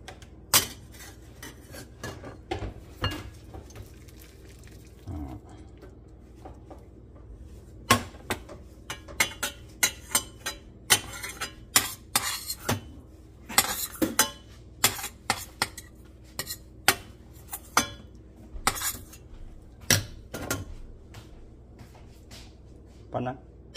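A large cooking pot and metal utensils clink and clatter in irregular sharp bursts throughout, close by, while someone talks underneath.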